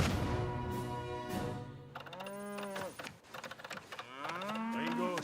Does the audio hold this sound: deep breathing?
no